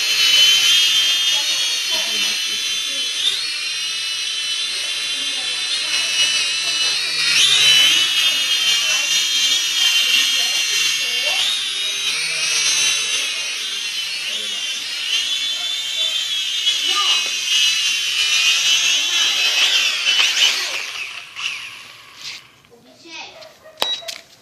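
A Forward RQ77-05 toy drone flies with a high, whining buzz of small propellers that rises and falls, while children talk over it before it cuts out near the end.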